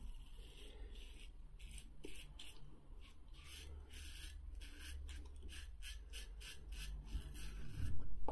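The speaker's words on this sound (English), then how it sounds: "Kind of noisy, like a Super Speed. You know, like little tinny because of the cap here." A Böker butterfly safety razor in its travel edition scrapes across stubble in repeated short strokes. The rasping is faint and slightly tinny, with brief pauses between passes and no talk.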